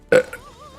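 A single loud, close burp rising abruptly and then trailing off in a short second gulp, alone with no speech around it, during a livestream of the newest Ratchet & Clank game on PS5.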